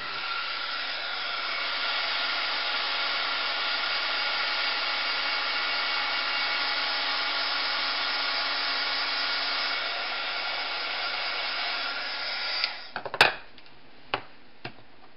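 A heat embossing tool blows hot air over a craft project in one steady, loud whoosh for about twelve seconds, then cuts off, followed by a few sharp knocks and clicks.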